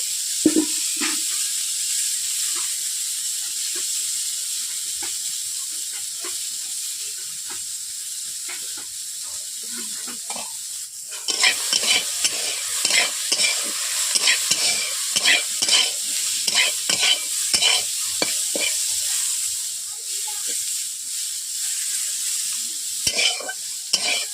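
Green beans sizzle in hot oil in a pan, a steady loud frying hiss throughout, joined about halfway by a run of quick scraping stirs and clinks of the spoon against the pan.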